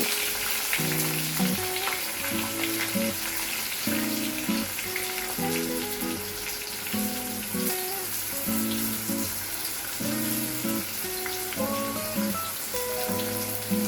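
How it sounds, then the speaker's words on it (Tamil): Raw banana pieces and curry leaves sizzle steadily in hot oil, a close, continuous crackling fry with rhythmic stirring or music-like thumps underneath, no talking. "இது கூட நம்ம வாழைக்காய் இப்போ சேர்த்து நல்லா ஃப்ரை பண்ணிக்கலாம்"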